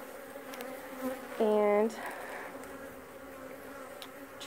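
Honeybees buzz around an open hive during swarm-prevention inspection, a steady drone with one louder close pass of a bee near the ear; a person speaks briefly.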